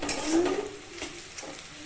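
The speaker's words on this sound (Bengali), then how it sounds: "এখানে পেঁয়াজটা ভাজবো মোটামুটি লাল লাল হচ্ছে।" Onions fry in a pan for a Bengali chicken kosha and are stirred, giving a soft close sizzle with a few scraping strokes of the spoon, quiet and brief.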